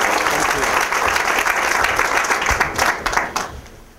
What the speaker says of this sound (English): Now, is that applause for me